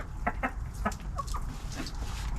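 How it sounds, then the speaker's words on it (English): Two roosters in a backyard coop clucking in short repeated bursts, close by over a steady low background hum. "as you see, I have 2 roosters there"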